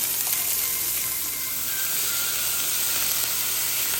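Cumin seeds, ginger and green chilies sizzle steadily in hot oil, a continuous close frying hiss with no talk over it.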